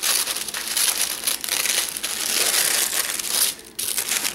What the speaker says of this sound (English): a dark pink tissue paper with the Planner Addict box sticker.